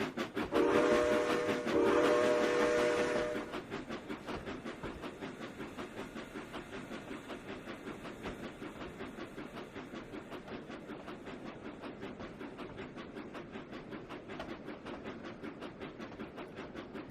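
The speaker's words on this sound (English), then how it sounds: "This is a nice long shot at a freight train that we normally don't get." In the Trainz 2019 train simulator game, a train horn blares at the start, then a long freight train rumbles past with steady rhythmic clacking of wheels over rail joints.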